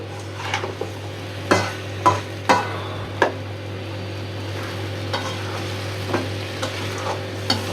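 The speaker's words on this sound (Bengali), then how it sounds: "ভাজা ভাজা করে কষাইছি, তেল ছেড়ে দিছে" Beef curry frying in oil in a pan, with a steady close sizzle and a handful of sharp scraping strokes as the spoon stirs it, and no talk.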